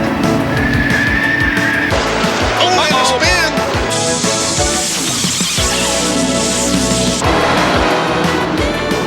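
A stock car spins out on a race track after contact, its tires skidding amid roaring engines, layered under loud broadcast commentary and music throughout.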